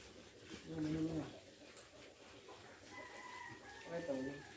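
A rooster crows in two drawn-out bursts, with other native chickens and nearby voices mixed in.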